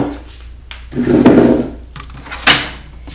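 A drawer in a Craftsman triple-decker toolbox packed with screwdrivers slides open, giving a rolling rumble followed by a sharp metallic clunk as it stops, close and fairly loud with no talking.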